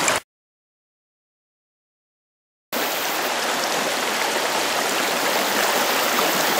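River water flowing steadily while gold is panned in a sluice, a loud dense rushing wash that cuts in after near-silence and holds evenly to the end, with no speech.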